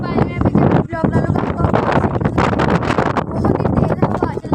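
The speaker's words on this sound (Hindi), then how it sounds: "बहुत ही तेज़ हवा चल रही है।" Strong outdoor wind buffets the microphone in loud, rough gusts under someone talking continuously.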